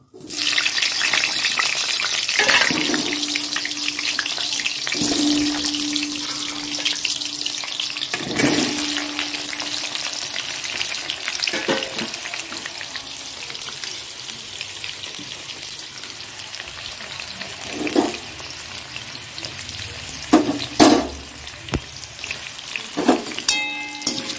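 Potatoes going into hot oil with sizzling cumin seeds in a home kitchen pan, a continuous soft frying hiss throughout with scattered sharp clatters and splashes, no voices heard.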